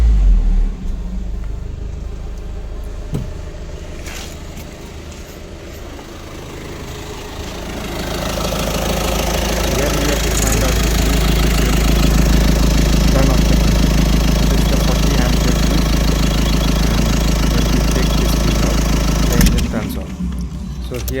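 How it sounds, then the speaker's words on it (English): A Tata Harrier SUV starts by push button and settles into a steady, loud idle rumble that holds evenly for several seconds after a quieter stretch of handling noise. "We have to push the button and start the engine."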